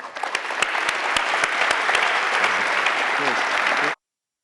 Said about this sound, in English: Give us all a hand of applause.